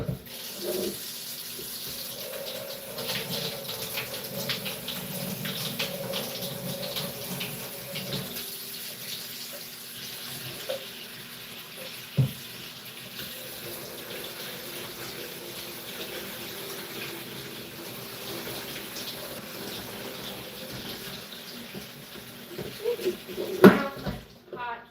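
Hot water runs steadily from a tap into a sink for a long stretch, close by, with a person talking over it and occasional clunks.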